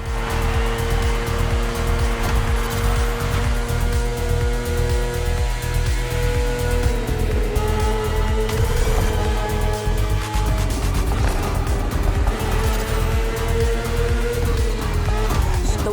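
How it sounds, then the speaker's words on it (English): A high-revving BMW S1000RR superbike engine in a racing video game drones continuously and loudly, its whine rising and falling as the rider shifts through gears. "The one you're riding is the S1000RR. It's what we call a superbike."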